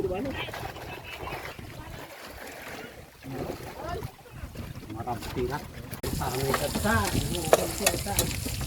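Tomato and onion sautéing in a pan on a boat, a steady sizzle with stirring that grows louder and busier toward the end, with a voice talking over it.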